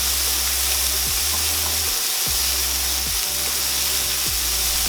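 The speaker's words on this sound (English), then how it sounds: "Also drop in your butter. Shallots, garlic." Butter, shallots and garlic sizzle loudly in a pan of brussels sprouts, a constant bright hiss and crackle with a low hum that repeatedly drops and glides back up underneath, and no one talking.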